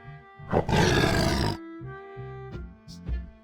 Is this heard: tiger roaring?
yes